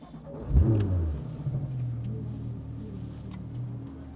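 A Porsche GT3 RS engine fires up and revs hard at full throttle, then settles into a steady, throaty low drone that holds nearby for several seconds.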